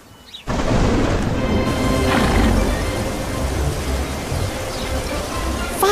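Heavy rain starts suddenly and pours steadily, a dense broadband hiss of drops with faint rumbling underneath, no voices.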